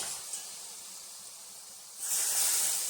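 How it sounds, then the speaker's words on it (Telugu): Gram flour batter for Mysore pak hits hot oil with a soft hiss that turns into a bright, louder bubbling sizzle partway through, close and alone. "ఆయిల్ వేయగానే ఎంత బాగా బబుల్స్ వస్తుంది"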